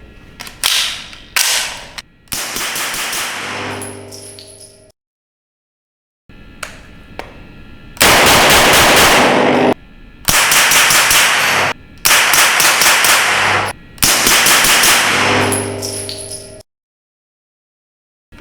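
A suppressed MP5 submachine gun fitted with a SilencerCo Octane 9HD in its short configuration fires several bursts, with sharp single shots first, then longer rapid strings of muffled reports separated by brief pauses.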